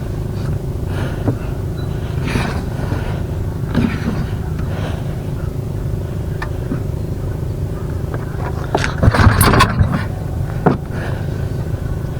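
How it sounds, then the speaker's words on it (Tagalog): A gasoline engine runs as a steady close low rumble while it is handled, with scattered knocks and clanks and a busier burst of noise toward the end. "Lalagyan ko na lang yung makinang gasolina."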